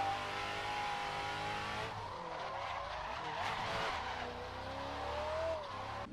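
V8-powered drift car in a drift simulator video game, engine roaring steadily with long tire skids and squeals throughout, loud and continuous with no talk.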